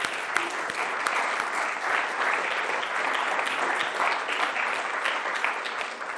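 Steady, dense applause from an audience at a sports-related event, sustained and fairly loud for several seconds with little else heard.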